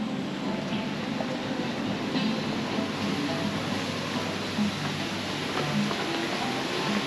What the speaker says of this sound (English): Oh, sound of water, darling.